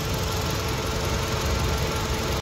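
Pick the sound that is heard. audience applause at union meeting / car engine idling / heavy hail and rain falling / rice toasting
car engine idling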